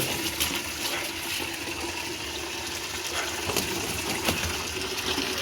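Water poured from a bucket to wash a dog's ball beside a drain outdoors, a steady close gushing and splashing that runs without pause.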